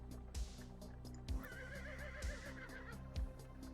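Video game horses pulling carriages: a whinny with a wavering pitch in the middle, over steady low rumble and four heavy, evenly spaced hoof thuds, moderately loud with no talk.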